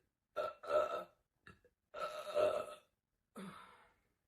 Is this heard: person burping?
yes